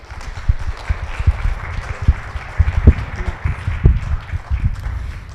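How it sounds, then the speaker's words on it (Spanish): A lecture audience at a talk on the 1916 Mexico City general strike offers scattered, uneven clapping, individual claps popping irregularly over a soft background rather than forming a full roar. "Agradeceré un aplauso para nuestra conferencista."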